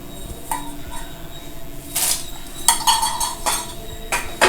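Mixed whole spices dry-roast together in a pan for baghaar-e-baingan, with irregular metallic scrapes and clinks of a spoon stirring against the pan, close by and fairly quiet.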